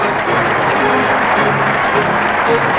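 A large crowd in Warsaw applauds delegates and Soviet leaders at the Warsaw Pact treaty meeting, steady loud clapping throughout with no pauses.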